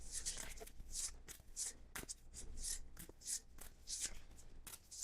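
A tarot card deck being shuffled by hand, soft rhythmic riffles and slides of the cards repeating closely and quietly for several seconds.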